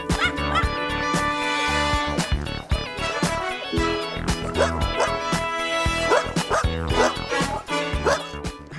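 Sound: abandoned dogs barking at an animal shelter

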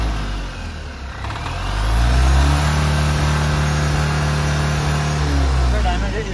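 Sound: Tata Ace Mega XL BS4 engine revving

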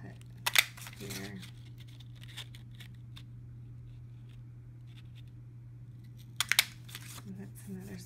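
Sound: scissors cutting paper circles

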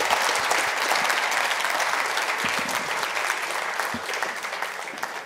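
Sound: audience applause

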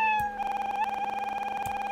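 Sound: repeated cat meow sound effect in Scratch

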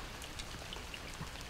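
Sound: rain falling

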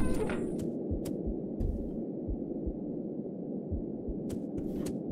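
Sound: heartbeat in a horror video game

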